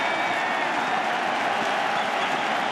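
A packed baseball stadium crowd at a World Series game cheers and applauds in a dense, steady roar that fills the whole stretch.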